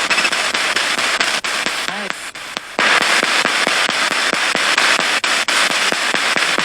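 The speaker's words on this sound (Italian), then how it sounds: "Fate sentire un altro po' le mitraglie, i cannoni." Rapid bursts of gunfire and heavier booms from a war zone battle, a dense run of sharp loud cracks with a short lull midway, then sustained firing resumes.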